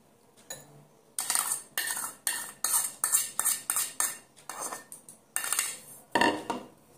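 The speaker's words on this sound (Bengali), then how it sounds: "এই দেখো দইয়ের সঙ্গে এই পুদিনাটা মেশাবো।" A spoon mixes ground mint into yogurt in a bowl, making a quick run of rhythmic, close scraping and clinking strokes, with a short quiet start before the stirring begins.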